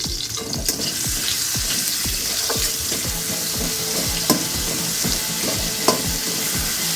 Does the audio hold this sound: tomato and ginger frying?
yes